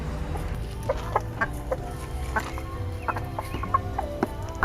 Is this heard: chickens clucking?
yes